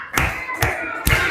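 Children clapping hands in a counted rhythm, three sharp evenly spaced claps about half a second apart, close and loud.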